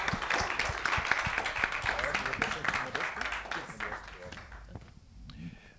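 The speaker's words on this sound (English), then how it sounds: "Round of applause, thank you." Audience at a cultural forum in Kigali giving a round of applause: sustained, dense clapping from a sizable crowd that thins and fades toward the end.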